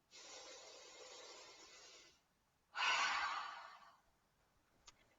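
Deep breaths during a beginner breathing exercise: one long airy inhale of about two seconds, a short pause, then a stronger, fading exhale, close and quiet with no talking.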